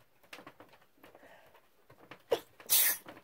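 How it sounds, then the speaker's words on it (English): A person sneezes once, sharp and forceful, near the end after a few quiet breaths and small rustles indoors. "It's amazing how hard a sneeze truly is."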